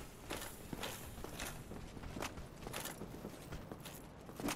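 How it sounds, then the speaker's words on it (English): Footsteps in the Dark Souls video game, a steady run of soft, evenly spaced steps crunching along at a moderate pace, fairly quiet and continuous with no talk over them. "I don't like when I can hear footsteps"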